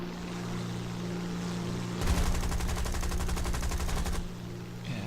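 The XF5F aircraft in War Thunder fires a rapid two-second burst from its guns, a dense rattle of shots over a steady engine drone.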